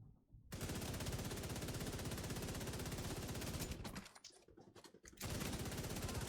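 Sustained rapid automatic gunfire in The Division 2 shooter game, loud and continuous for several seconds, briefly dropping out before resuming at full intensity.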